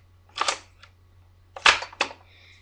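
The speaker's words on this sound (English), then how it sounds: "And I'll dry fire the gun so you guys can hear what it sounds like." Dry firing of a Shadow Ops airsoft sniper rifle with no BBs: a few sharp, close mechanical clacks and snaps of the bolt and trigger, spaced apart in a quiet room.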